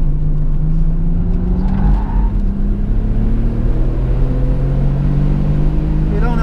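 On a race circuit, a car engine drones loudly and close with strong tonal harmonics, its pitch climbing gradually as the car pulls away for another lap.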